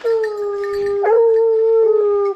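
Hunting dogs let out for a wild boar hunt howl in a sustained, wavering chorus, one long howl rising and bending near the microphone with other dogs yipping faintly behind.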